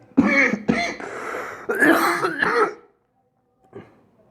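A few harsh coughs close to the mic, two sharp bursts then a longer rough stretch of coughing, followed by silence and one small throat sound.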